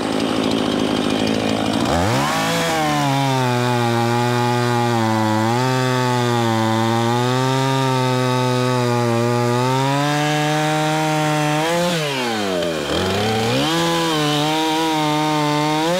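A chainsaw roars steadily at full throttle while cutting into a birch tree being felled, pitch dipping and rising as it bites into wood, with a brief rev change near the end.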